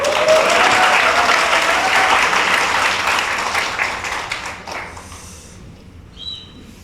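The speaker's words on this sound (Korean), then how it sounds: "박수!" An audience at a Korean-American community forum claps loudly and steadily, then the applause thins and fades away over the last couple of seconds.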